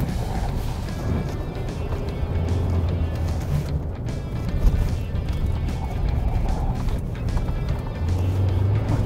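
A pickup truck with automatic transmission accelerates to 80 during an off-road comparison test, a steady, loud engine and road roar with wind noise, continuous for about nine seconds.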